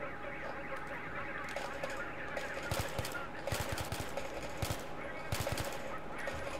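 Rapid bursts of automatic gunfire from a Battlefield 3 cooperative mission on PS3, fired at moderate distance in clustered volleys with short pauses, over a steady background game ambience.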